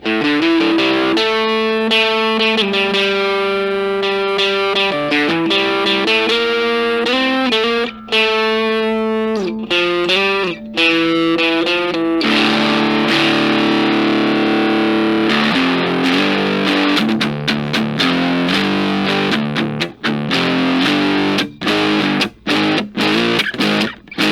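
An electric guitar plays loud and heavily distorted through a Mosen Music mini amp with gain maxed, melodic runs first, then buzzing chords and choppy staccato hits.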